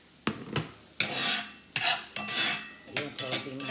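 A metal spatula clatters in a home kitchen while beef tips and gravy are cooked, giving a few sharp, close metallic knocks and scrapes against a pot or lid, with quiet gaps between them.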